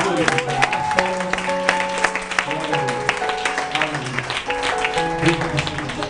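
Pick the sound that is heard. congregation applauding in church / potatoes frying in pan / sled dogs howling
congregation applauding in church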